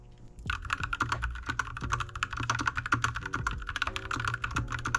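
Fast typing on an Akko mechanical keyboard fitted with rosewood switches, a busy run of crisp, close keystrokes with deeper thocks mixed in, no voices.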